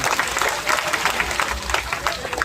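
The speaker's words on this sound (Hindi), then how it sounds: "एक बार जोरदार ताली अपने लिए भी करिए" At a political rally in Jharkhand, a crowd claps in a dense, steady burst of applause with some crowd noise, moderately loud and even for a couple of seconds.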